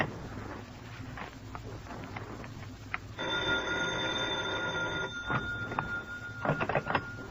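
A telephone rings in an old-time radio detective drama, a steady electric bell trill running for about two seconds, then several shorter clicks and rattles as the receiver is picked up, with no voices.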